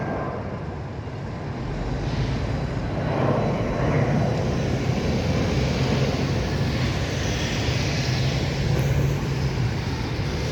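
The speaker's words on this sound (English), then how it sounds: "And there's another plane." A jet airliner rumbles overhead at Heathrow Airport, heard from the bus station as a steady, broad roar that swells gently and holds for several seconds with no talk.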